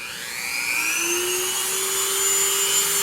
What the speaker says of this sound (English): I'm going to get my Dremel going